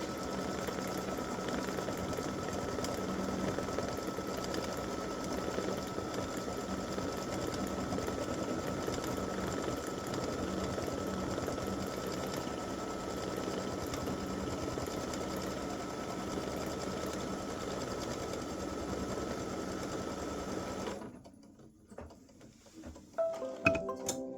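An embroidery machine stitches a decorative design on an in-the-hoop mug rug panel, its needle chattering in a fast, even mechanical rhythm for about twenty seconds before stopping abruptly, leaving faint handling noises.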